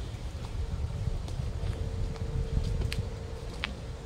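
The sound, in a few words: wind blowing through tree leaves in bird sanctuary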